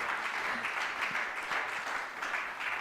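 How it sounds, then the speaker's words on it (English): A conference audience at a corporate governance summit gives a standing ovation, with thick, continuous clapping holding at an even level from start to finish and no talk over it. "a huge round of applause, a standing ovation"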